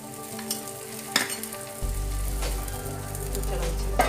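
Dosa batter with greens frying in oil on a hot pan in a home kitchen: a steady loud sizzle that swells suddenly partway through, with faint scraping touches, no talking.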